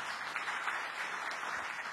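A church congregation claps for Jesus after a sermon, a fairly quiet, even patter of many hands held at a distance throughout.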